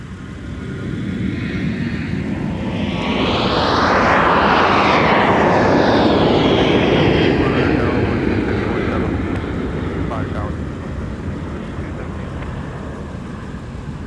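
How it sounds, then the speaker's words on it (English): Frontier airliner beginning its takeoff roll at Minneapolis–Saint Paul airport, a loud rising jet engine roar that swells to a peak mid-clip and slowly fades, with a voice talking over it. "I think they have now started their takeoff roll, and they have."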